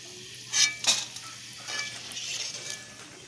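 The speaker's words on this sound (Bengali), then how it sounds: "দেখেছো কত সুন্দরভাবে ভেজে নিচ্ছে, এরমভাবে ভেজে তুলে নেব।" Sago pearls fry in hot oil, giving two sharp close scrapes of a spoon in the pan followed by a soft continuous sizzle and bubbling.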